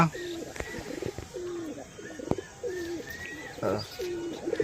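Pet pigeons kept at home coo repeatedly in soft, rolling phrases close by, with a few sharp clicks and faint chirps scattered among the calls.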